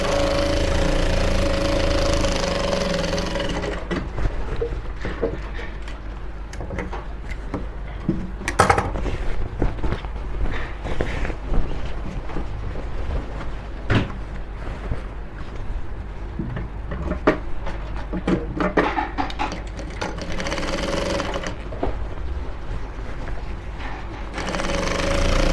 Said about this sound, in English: You sew all through to this point and make sure your hands are straight enough.